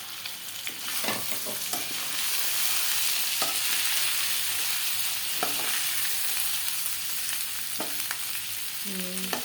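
Cashews frying in a pan of oil for sago upma, with a steady loud sizzle throughout and occasional scrapes and taps of a stirring spoon.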